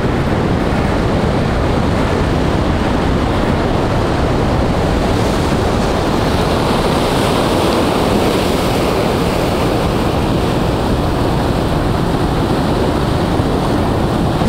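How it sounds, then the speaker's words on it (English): Ocean waves surge against rocks at the end of a rocky point, a loud continuous roar of surf with heavy wind buffeting the microphone throughout, no voices present. "Right out at the end, this is where the waves hit."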